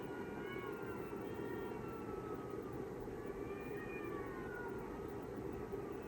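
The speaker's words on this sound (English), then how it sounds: "There are cats fighting around the house." Cats fight outside a house, heard faintly at a distance as drawn-out yowls and wavering caterwauls over a constant loud hum of background noise.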